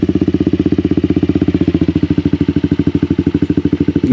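Yamaha Aerox motorcycle fitted with a Krace Ultra exhaust, idling with a steady, rapid, throbbing putter recorded close to the exhaust, loud and even throughout, with no talking.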